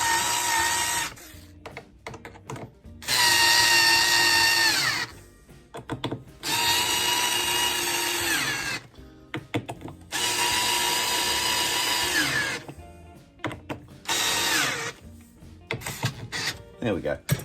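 A power drill drives screws into a homemade cigar box guitar in several long, loud whirring bursts separated by short pauses, with no talking.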